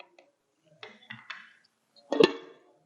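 Metal lid set onto a pot of mango vathal kuzhambu, a few light clinks and taps followed by one louder clattering clank, close with quiet gaps between.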